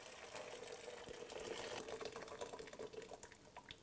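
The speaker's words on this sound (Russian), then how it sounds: "поэтому я выливаю сразу всю воду." Pasta cooking water is poured off all at once in a kitchen, giving a steady, soft rushing splash of liquid that runs continuously for a few seconds with no talking.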